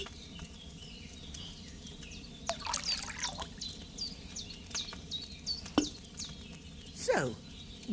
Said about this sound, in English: Don't worry, I poured wine in there.